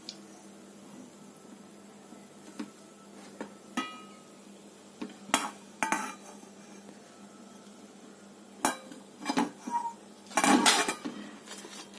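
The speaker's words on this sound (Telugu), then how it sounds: "పనసకాయ బజ్జీలు వేగాయి, తీస్తున్నాను ఒక సర్వింగ్ ప్లేట్లోకి" Fried jackfruit bajjis are lifted out onto a serving plate. Quiet kitchen clinks of utensil against plate and pan come in scattered bursts, with a few louder clatters near the end over a soft background.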